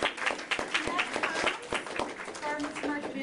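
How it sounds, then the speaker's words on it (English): Audience at a community farmers' market event applauds briefly, scattered claps mixing with a speaking voice over the top. "Let's give her a round of applause."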